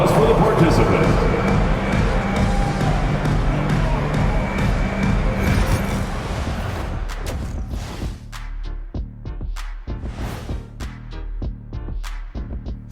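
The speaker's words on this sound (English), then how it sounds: "A round of applause for the participant." Crowd applause and cheering in a PS5 basketball video game between the Clippers and Jazz fill the first half as a dense roar, then thin to scattered claps, ball bounces and sneaker squeaks while commentators talk.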